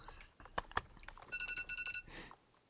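A phone alarm goes off with a rapid series of bright electronic beeps in short pulses lasting about a second, after a few faint clicks, at moderate volume in a quiet room.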